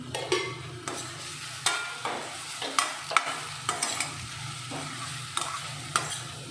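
Curry leaves frying in a hot pan for a curry give a close, steady sizzle broken by sharp spitting crackles and pops that flare up about every half second to second.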